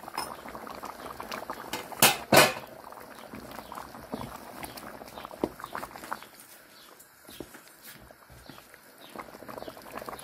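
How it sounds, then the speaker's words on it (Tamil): Dried banana-fish curry with field beans and country vegetables boils in a pot, a steady bubbling simmer heard up close, with a couple of sharp clanks near the two-second mark and the bubbling easing later on. "குழம்பு நல்லா கொதி வந்துடுச்சு."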